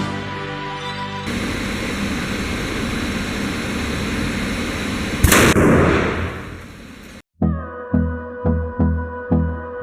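An AFO fire extinguisher ball bursting in a fire: a sudden sharp pop over a roaring, broadband blaze, followed by a hissing decay that cuts out before rhythmic music starts.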